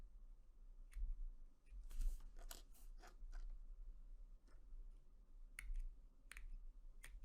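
Small sharp snips and clicks of cutters clipping the nubs off a plastic spider miniature. The cuts come as scattered crisp ticks over a quiet background, close up, with no talking.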